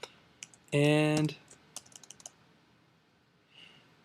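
Computer keyboard typing a command in a terminal, a few scattered key clicks and a quick burst of taps after a short spoken word and a brief sustained tone, fairly close and clear.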